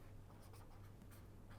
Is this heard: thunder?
no